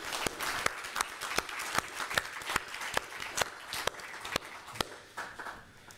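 Audience applause at the close of a forum event, a fairly faint, steady patter of many hands with a few sharper claps standing out, continuing throughout without talk.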